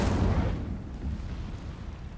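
A fiery Incendio spell cast in the video game Hogwarts Legacy starts with a loud whooshing burst that fades into a low, rumbling roar.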